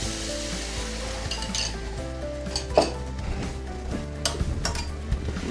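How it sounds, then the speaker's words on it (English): Chicken lo mein noodles and sauce mix stirred in a hot pan, with steady sizzling and frying beneath intermittent scraping and clinks of a utensil against the pan. "Let's mix this around."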